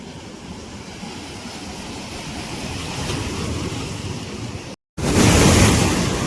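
Sea waves at Malvan crash against shoreline rocks in a continuous broad roar with wind, rising toward a louder surge near the end after a brief cut, with no speech.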